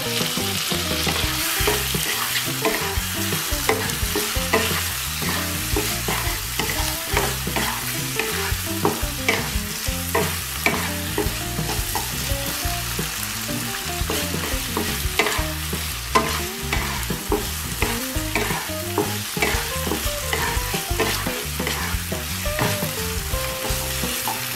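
Tomatoes sizzle and fry with spiced masala in a pan for an egg curry, a steady crackling hiss with frequent stirring scrapes throughout.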